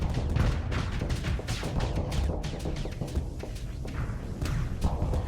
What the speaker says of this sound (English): send out my swarmer missiles